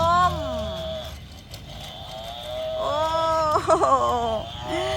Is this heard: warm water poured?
no